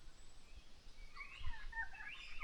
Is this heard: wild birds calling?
yes